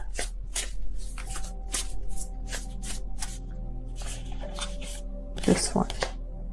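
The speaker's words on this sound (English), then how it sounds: "I don't know what's going on with my shuffling right now." Tarot cards are shuffled by hand in a series of quick riffling and slapping bursts, close and moderately loud, while a person talks over them throughout.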